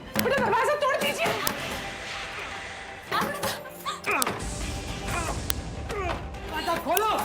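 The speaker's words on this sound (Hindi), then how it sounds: "बेटा दरवाजा तोड़ दीजिए" Heavy thuds and bangs as a door is struck to break it down, repeated irregularly under loud, anxious shouting and talk throughout.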